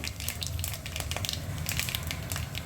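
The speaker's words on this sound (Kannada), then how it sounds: "ಈಗ ಒಣಮೆಣ್ಸಿನ್ಕಾಯಿ ಹಾಕ್ತಾಯಿದ್ದೀನಿ." Dried red chillies crackle and sizzle in hot oil in a pan, a dense, close spatter of small pops and hiss with no voices over it.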